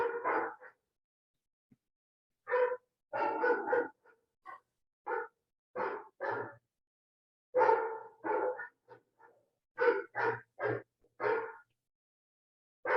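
A dog barks repeatedly in short irregular bursts, some single barks and some quick clusters, close and fairly loud against silence between them.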